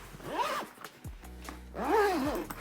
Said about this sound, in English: and then that zips up